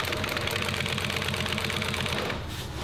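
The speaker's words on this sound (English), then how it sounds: "The final piece on this is sewing this last piece of binding on it." A sewing machine stitches binding onto a custom convertible top, running in a fast, steady mechanical rattle throughout before slowing slightly near the end.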